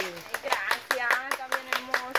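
People clap in quick, uneven bursts at a surprise gathering while voices talk and call out over the applause.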